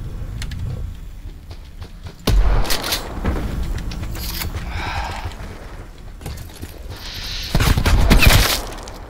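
Bursts of gunfire in a Call of Duty Blackout battle royale match, with several loud volleys and sharp impacts spread across the stretch over a busy game soundscape.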